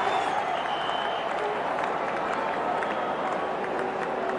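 A stadium crowd at an India vs West Indies cricket World Cup match keeps up a dense, sustained roar of cheering and clapping with no break.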